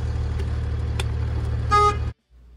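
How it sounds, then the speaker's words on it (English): A truck horn honks once briefly over a steady low engine idle, followed by near silence. "The last is just the horn."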